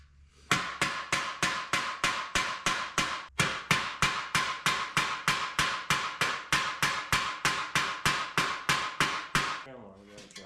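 Rapid, regular metal hammer blows on a 1932 three-window car's sub rail, about three strikes per second for roughly ten seconds, sharp and close, ending in a clatter.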